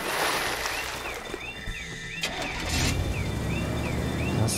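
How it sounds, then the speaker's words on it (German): A car engine in the video game Teardown runs steadily, with a rising hum that swells toward the end as the car is driven toward a pool, with no talk over it. "Nehmen das Auto, fahren es in den Pool."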